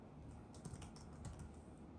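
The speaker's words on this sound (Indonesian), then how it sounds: "ini bisa saya klik panah ke bawah aja di keyboard" Keys tapped on a computer keyboard during Microsoft Access data entry, a quick series of faint, close clicks over steady low room hum.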